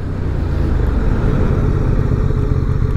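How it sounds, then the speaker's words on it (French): A 2023 QJ Motors SRV 550 motorcycle slows under rear braking, its engine a loud, steady, close low rumble with a slight pulsing throb that holds for the whole few seconds. "Je freine de l'arrière."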